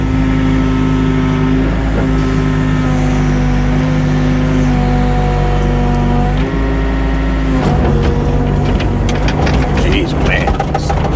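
A mini excavator engine runs steadily and loud while it swings and digs sand from flooded footings, with a constant drone and shifting tones as the load changes, then clanking and rattling toward the end.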